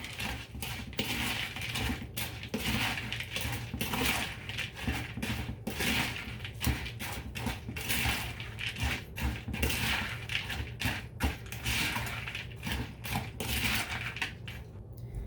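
Close, steady crunchy scraping and clicking from a spoon stirring a hot crust mixture with melted butter for a strawberry pretzel salad, continuous and busy throughout with no talking.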